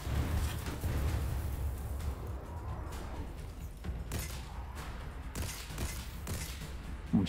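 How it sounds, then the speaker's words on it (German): Gunfire in Destiny 2 rattles continuously through the stretch as loud, dense bursts of in-game shooting with sharp transients, layered with crashing and mechanical clatter and no clear talk. "Leute, habt ihr diese Schüsse gesehen?"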